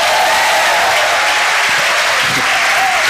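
Loud, dense applause from a church audience at a Filipino sermon, steady clapping filling the whole stretch with crowd noise and no break.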